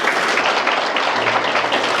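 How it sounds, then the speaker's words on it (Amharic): A church congregation bursts into loud, sustained applause, a dense continuous wash of many hands clapping together with no gaps. "አጨብጭቡ ለጌታ ክብር።"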